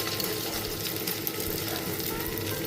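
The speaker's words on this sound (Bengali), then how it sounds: "জাস্ট এরকম নিয়ে চ্যাপটা করে করে গরম তেলের মধ্যে" Flattened kebabs frying in hot oil, a steady close sizzle and crackle that continues without a break.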